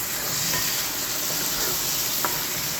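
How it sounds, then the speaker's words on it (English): Red wine vinaigrette simmers in a pan while beef Wellington is being cooked, giving a steady close sizzle and hiss with faint stirring sounds throughout. "So, we're going to let that simmer down."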